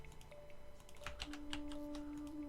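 A finicky computer keyboard is typed on in short, quick bursts of faint clicking key presses, close by and quiet over a low background hum.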